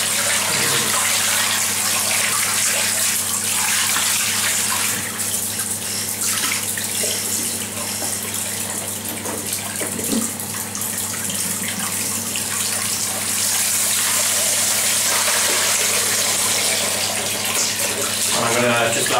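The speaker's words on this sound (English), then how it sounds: "just going to change out the water" A bathroom sink tap runs steadily while used shaving water is changed out, a continuous close gushing splash lasting the whole stretch with slight shifts in flow and no talking.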